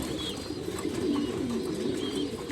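Racing pigeons kept in a loft, a close, steady run of soft throaty cooing over a low background hum, with no voices.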